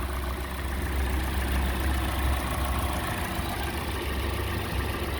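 A 2013 Hyundai Elantra engine idles quietly at a steady, even hum, with no revving and no voices over it.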